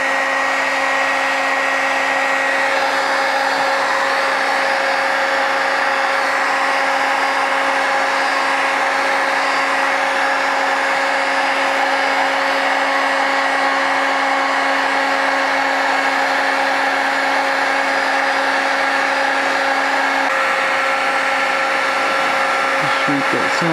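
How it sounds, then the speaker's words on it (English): A heat gun blows steadily and loudly for the full stretch while shrinking heat shrink tubing on a custom light bar wiring job for a Ford Explorer, a continuous hot-air roar with a fixed motor hum and no talk. "Heat shrink this thing up."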